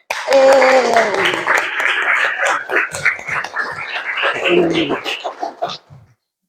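A classroom group claps a rhythmic cheer in rapid, patterned bursts, with children's voices chanting and shouting along, fairly close and lively, fading out at the end.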